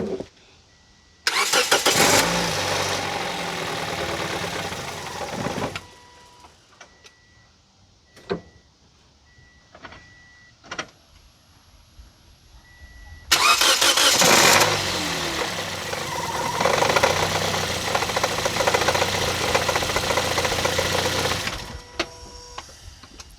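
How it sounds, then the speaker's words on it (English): A Toyota Yaris engine idling rough at around 500 RPM, a loud buzzing, uneven run in two long stretches separated by a quieter gap with faint intermittent clicks. "the car wasn't running perfectly. It was running around 500 RPM"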